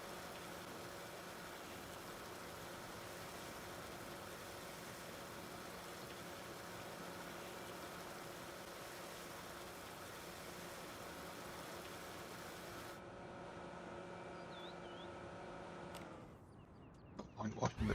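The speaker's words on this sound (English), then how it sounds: "No point watching the tractor or the mowers, they're going to get used again in a minute." Tractor and mowers cutting grass in Farming Simulator 19, a steady droning engine hum running unbroken for many seconds before cutting off abruptly near the end.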